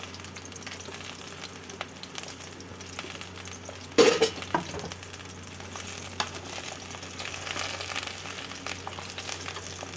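Pointed gourd and potato fry steadily in mustard oil, a continuous broadband sizzle with a brief louder clatter near the middle, close and even throughout, no voices.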